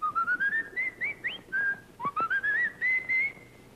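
Someone whistles a lilting, sliding melody in a 1940 film scene, the notes clear and close, phrased in quick bursts with brief pauses between them.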